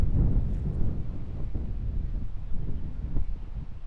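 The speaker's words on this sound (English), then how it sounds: "I got a lot of wind here" Strong wind gusts buffet the microphone on an open golf course, producing a heavy, continuous low rumble with no talking.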